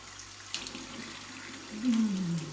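A bathroom tap runs steadily as a child brushes teeth, close water splashing into a sink that grows louder near the end, with no talk.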